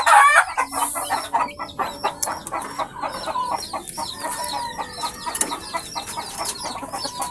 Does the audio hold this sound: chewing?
no